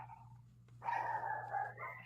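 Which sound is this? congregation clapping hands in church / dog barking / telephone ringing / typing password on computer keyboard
dog barking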